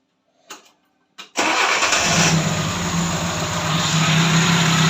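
A ZAZ Tavria car with a carburetor, which stalls while driving, gives two short clicks. Its engine then cranks and catches and settles into a loud, steady idle close by.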